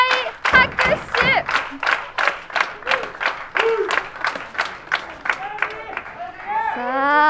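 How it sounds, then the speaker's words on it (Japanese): A crowd at a pro wrestling show at Shinjuku Face claps in sustained, rhythmic bursts, loud and close, while a commentator talks over the applause. "会場から大拍手。"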